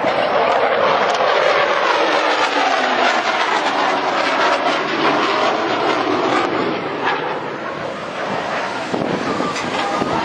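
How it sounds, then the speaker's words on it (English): Hornet jet aircraft at an air show, heard as a loud, continuous broadband roar that holds steady for about ten seconds and eases slightly toward the end as it passes. "here comes the Hornet for one"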